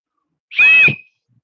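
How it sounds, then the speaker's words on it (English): A small carved whistle blown once, giving a single short, clear, steady tone up close, with silence before and after. "You can make a fun little whistle for one of your grandchildren."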